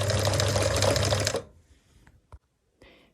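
A sewing machine runs in a fast steady whir while stitching a dart in a blouse, stops abruptly after about a second and a half, then a few faint clicks and handling sounds follow.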